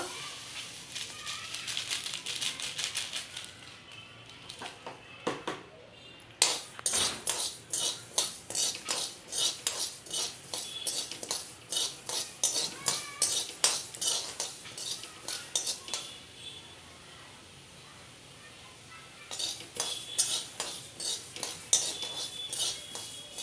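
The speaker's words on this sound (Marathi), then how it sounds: "तड तड तड आवाज यायला लागला मस्त." Garden cress seeds roasting in a dry pan crackle with rapid, irregular pops and ticks that come in busy bursts, ease off briefly and then resume, close and fairly clear.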